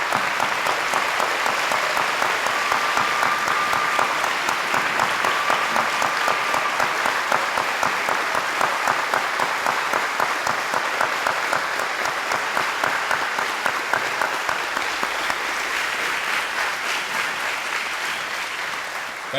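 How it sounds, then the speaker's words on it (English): A standing audience at a high school veterans celebration claps in dense, sustained applause, loud and even throughout nearly twenty seconds with no break, tapering only slightly at the very end. "Join me with a rousing pantheon of applause."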